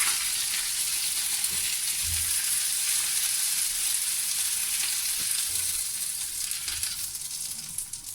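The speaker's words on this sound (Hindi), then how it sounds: "ऐसे ही मैं बाकी सारे को भी हल्का सा फ्राई कर लूँगी।" Fish pieces for a masala curry sizzle lightly in a pan of hot oil, a steady, even hiss that holds throughout with occasional faint low bumps and no voices.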